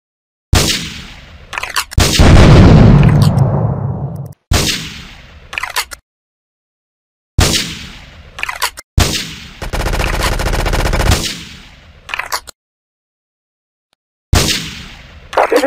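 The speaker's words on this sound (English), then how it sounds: "investigate reported gunfire and explosions" Bursts of rapid automatic gunfire and heavy blasts in GTA 3 come in separate loud chunks, broken by short stretches of silence.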